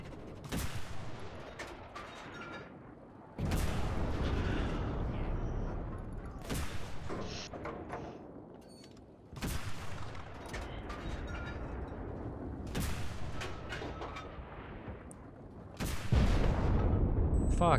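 A video game battle with heavy explosions and gunfire: sharp, loud blasts recur every few seconds, each followed by a rolling rumble, over a constant bed of crackling shots.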